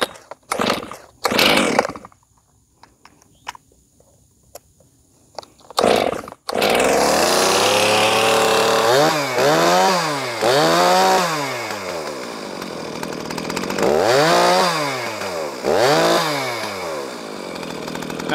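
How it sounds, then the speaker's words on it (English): A Poulan 4620 60cc farm-and-ranch chainsaw with a plastic case and a new 3/8 chain starts after a few pulls, then runs loud and close, rising and falling through repeated revving bursts. "It's a farm and ranch saw. It is also a plastic case. However, it is 60cc's."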